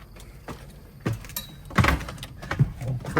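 A door on a Cummins diesel monster truck is unlatched and swung open, giving a close clunk and rattling thumps with some faint movement noise around it.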